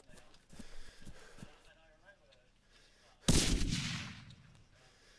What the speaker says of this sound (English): Throwing grenades, Bill.